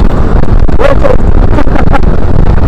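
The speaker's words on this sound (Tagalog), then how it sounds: "Yung hangin ang lakas ang hangin." Strong wind buffets a microphone beside traffic, a loud continuous rumbling roar with gusty surges throughout, and a voice speaks faintly beneath it.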